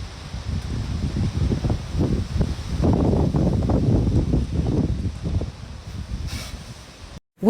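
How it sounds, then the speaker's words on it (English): Strong wind gusts during a severe storm around Sydney and Canberra, Australia, roar and rustle in rising and falling surges, strongest in the middle, before a sudden cut. "Winds reached extreme speeds, with Williamtown recording gusts of 120 kilometers per hour"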